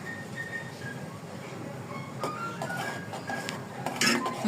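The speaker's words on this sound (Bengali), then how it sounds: "চামিচ নাও, নাড়ে দাও।" Metal spoon scraping and clinking against a pot while noodles with spice mix are stirred in a home kitchen, soft intermittent scrapes building to a sharper clink near the end over steady background hiss.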